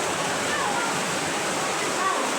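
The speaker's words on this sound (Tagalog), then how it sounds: "Inabot na talaga tayo ng baha dito." Floodwater rushes during heavy rain as a dense, continuous roar close by, with a voice faintly beneath it.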